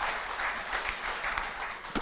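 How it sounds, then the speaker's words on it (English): Audience applause at a traditional Irish music concert in Milltown, Rathconrath, a steady dense wash of clapping throughout. "Would you give him a big round of applause?"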